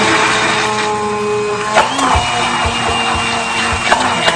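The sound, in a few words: immersion blender blending homemade mayonnaise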